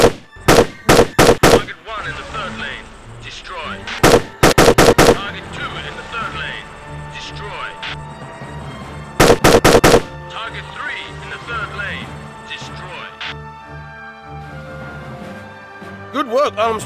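Rapid bursts of rifle fire crack out in Operation Flashpoint: Elite, several clusters of sharp shots at a firing range separated by quieter stretches of ringing and game ambience.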